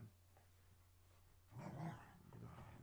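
A dog growls and whimpers quietly indoors over a low background hum, the sound swelling midway and continuing faintly, no voices.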